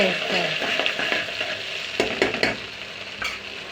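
Washed small fish sizzle in hot oil after curry leaves go in for an Andhra-style curry, a steady close crackle with occasional stirring clinks and pops.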